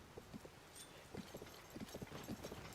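Horse hooves clip-clopping at a steady walking rhythm in Zelda: Tears of the Kingdom, soft and fairly faint, with a few small chimes from the game and no talking.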